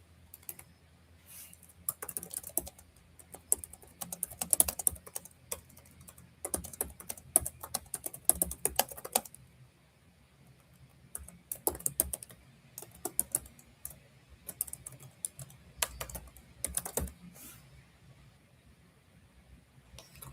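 Typing on a computer keyboard comes in irregular bursts of quick, soft clicks with short pauses between them, close and fairly quiet, with no talking.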